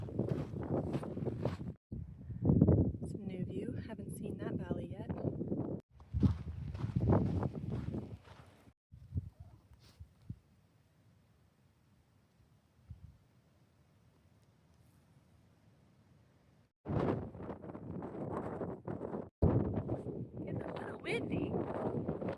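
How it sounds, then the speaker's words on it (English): Gusty wind on an open desert trail, rumbling across the microphone in loud bursts during the first half and the last few seconds, with a quieter lull of faint breeze in between. "Windy."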